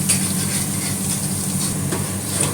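Chopped onions fry gently in oil over low heat while a tadka is browned for haleem, giving a soft, steady, continuous sizzle close by.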